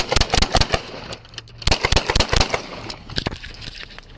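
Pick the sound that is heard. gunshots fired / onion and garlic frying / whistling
gunshots fired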